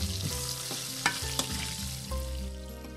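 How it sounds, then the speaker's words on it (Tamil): Halved small shallots frying in oil with salt for a okra tamarind kuzhambu, a soft close sizzle with a few crisp pops and spoon scrapes, faint and without talk. "இப்போ சின்ன வெங்காயத்தை சேர்த்துக்கலாம்."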